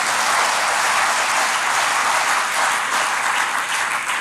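An audience at an IAS exam guidance talk breaks into sustained applause, a dense, steady wash of many hands clapping at once that holds at an even, loud level for the whole stretch without any voices.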